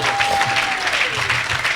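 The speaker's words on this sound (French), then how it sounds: "Donne une grande acclamation à Jésus" Congregation clapping in praise for Jesus during an evangelical church service, a short burst of lively continuous applause filling the room.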